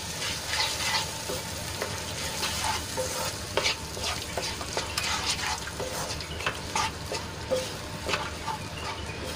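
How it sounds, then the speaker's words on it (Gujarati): Spice paste being stirred into onions frying in a pan, a steady sizzle broken by repeated scraping and clinking strokes of a spoon against the pot, close and moderately loud. "તો પેસ્ટને સરસ રીતે ડુંગળીમાં મિક્સ કરી લઈશું."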